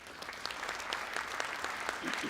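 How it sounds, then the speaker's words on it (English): A room full of people at a business conference in Malaysia applauding steadily, a dense patter of clapping at moderate volume with no voices over it. "please give Oliver Schofield a big, warm Malaysian round of applause."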